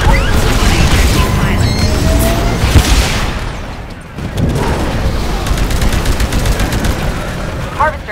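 Heavy gunfire and booming explosions pound a harvester in Titanfall Frontier Defense, a dense, continuous barrage of shots and blasts that eases briefly midway before surging again, with voices talking over the din.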